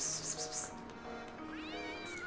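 A cat meows once in the Professor Layton and the Curious Village video game, a short rising-then-falling cry set over soft in-game background music.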